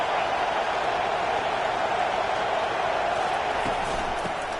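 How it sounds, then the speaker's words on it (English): Steady roar of a stadium crowd in a football video game, a dense continuous wash of noise with no breaks, loud and close, with faint commentary-like voices beneath it. "This crowd trying to make life miserable for this offense."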